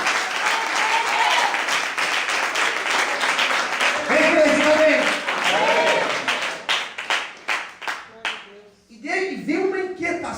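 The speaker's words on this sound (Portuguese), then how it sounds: "Você pode aplaudir esse Deus?" A church congregation claps loudly and steadily during a sermon, with voices calling out over the applause. It thins into scattered individual claps near the end, then talk resumes.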